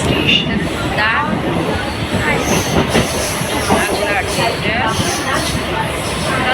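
A Mumbai local train runs loud and close with a continuous rumbling roar, wheel clatter and faint squeals throughout, and people talking underneath.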